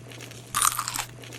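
A single sharp crunch of teeth biting into crisp street food, close and brief, followed by a little chewing against a quiet background hum.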